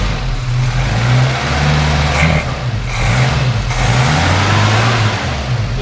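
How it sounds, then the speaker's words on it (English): A 1971 Dodge-Mitsubishi Galant Colt engine revs up loud and close, a steady mid-pitched drone that rises and falls through a couple of swells without any talk over it. "Go ahead and rev it up one more."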